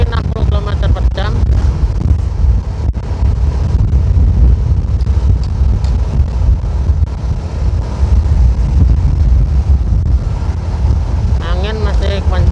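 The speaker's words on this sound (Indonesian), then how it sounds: "Angin masih kencang juga." Strong wind buffets the microphone throughout, a loud constant roar from a vehicle moving at about 60 km/h on a road under construction between Riko and Kota Petung, with faint harmonic voice-like traces near the start and end.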